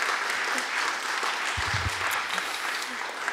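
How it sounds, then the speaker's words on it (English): Audience applause fills a talk at a political conference, a dense, steady wash of many hands clapping at close range that carries on throughout. "Please give a round of applause again."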